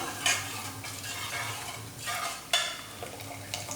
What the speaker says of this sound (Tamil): இதை சும்மா ஒரு வாட்டி ஒரு கடை கடைஞ்சி விட்டுக்கலாம்